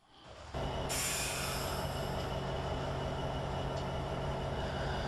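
Cab of an SD70MAC diesel locomotive in Train Simulator 2015: a steady low engine drone with broadband hiss swells up after a brief quiet start and holds continuously at moderate level, no voices.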